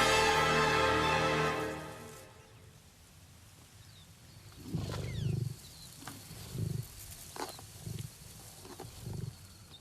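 Lions on the Serengeti plains mob a lioness over her kill, giving a loud roar at first, then a series of growls and snarls in bursts over open outdoor ambience.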